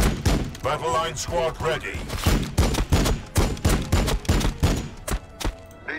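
Rapid bursts of gunfire from the Warhammer 40k Battle Sector video game, a Blood Angels campaign, crack out in a dense, repeated volley beneath a game voice barking a squad command.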